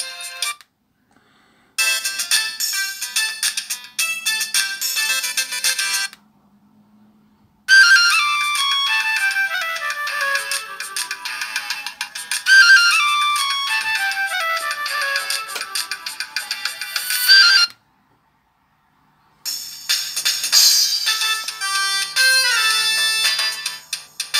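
Several short electronic message tones from a Chinese knockoff of a Samsung E1200 phone play one after another, bright, squeaky chiming melodies separated by brief silences.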